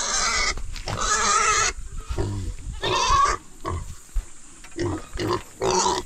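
Goats being let out of their pen on a farm give off bursts of bleating and grunting, several animals calling close by in irregular clusters with short pauses between them.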